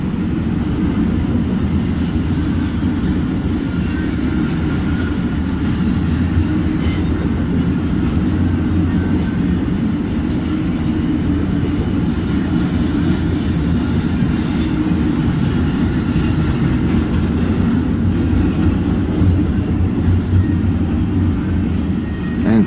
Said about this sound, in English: And finally, the end of the train.